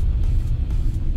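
A Chevrolet S10 pickup, loaded 300 kg beyond its recommended capacity on a dusty farm road during the corn harvest, revs at full throttle with a loud, steady low engine rumble heard from inside the cabin, with no talking.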